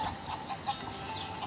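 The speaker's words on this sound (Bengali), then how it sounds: "এখানে আরেকটা মুরগি ডিম পেড়েছে," Chickens in the Pazu video game, a faint repeated clucking at a quick, fairly regular rhythm over a low background hum, with no voices.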